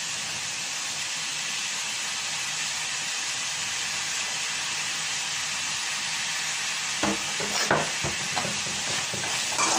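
Onions and green chillies sizzle steadily in a pan for Kerala-style fish curry, a constant hissing fry that turns to clattering stirs and scrapes near the end, with no talking.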